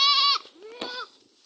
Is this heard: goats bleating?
yes